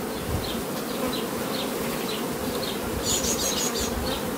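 Honey bees buzz in a continuous drone around an opened hive, with individual bees passing close, and a few brief higher tones rise over the hum.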